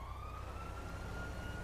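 GTA 5 police car sirens wail at a distance, a thin steady rising tone under a low engine rumble, faint and continuous.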